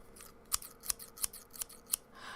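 Scissors snip about six times in a steady rhythm, crisp and close but fairly quiet, with a short rustle at the end.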